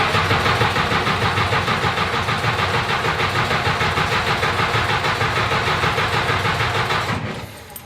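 An engine on a farm repair job, fed a shot of gas into the carburetor, fires and runs with a loud, fast, knocking mechanical rhythm close by, then cuts off abruptly near the end.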